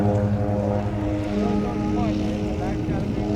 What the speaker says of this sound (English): now the Helldiver's picking up some pace out there